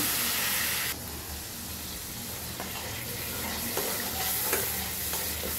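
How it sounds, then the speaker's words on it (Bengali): Turmeric and chili spices sizzle and fry steadily in hot oil in a pan, with scraping stir strokes and a brief faucet-like hiss, loud and continuous with no talking. "এই যে মশলা দিয়ে দিচ্ছি, এটাকে ভালো করে কষাই নেব"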